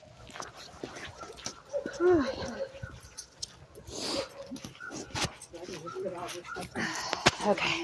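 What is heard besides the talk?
dogs barking and whimpering outdoors at animal shelter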